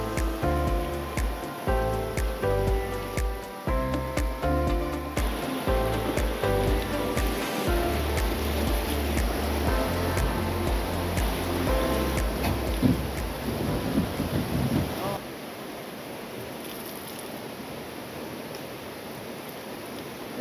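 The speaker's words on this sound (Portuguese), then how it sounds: "tudo isso aqui é chuva, né?" Heavy rain pours over a river in the Amazon rainforest, heard from a boat as a dense, steady hiss and roar, first beneath music and then alone for the last few seconds.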